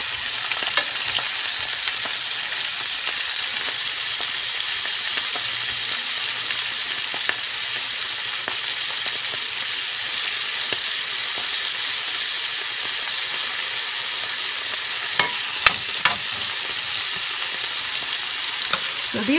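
Already-cooked shrimp for kung pao shrimp with cashews and pineapple fry in a pan, giving a steady, close sizzle for the whole stretch, with a few scraping stirs and flips near the end.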